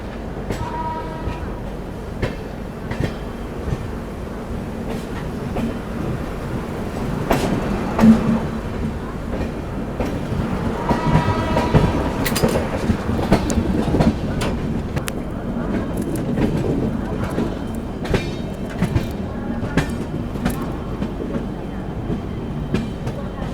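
The 22437 Prayagraj–Anand Vihar Humsafar Express runs through Ghaziabad Junction without stopping, a steady rumble of wheels with rhythmic clickety-clack over rail joints and occasional sharper knocks, heard continuously from on board.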